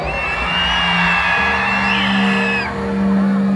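A crowd screams and whoops at a New Year's Eve concert on the Pingtung Gymnasium lawn, a sustained loud roar of many voices with sustained musical tones running through it.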